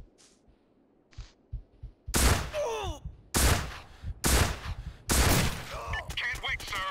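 Gunfire in the video game SOCOM U.S. Navy SEALs: Combined Assault, a few faint distant pops followed by several loud, sharp bursts in quick succession with ringing tails and brief voice fragments between them.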